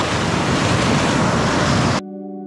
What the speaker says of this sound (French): il y a des belles vagues